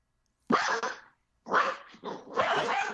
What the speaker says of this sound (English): That's Ted's dog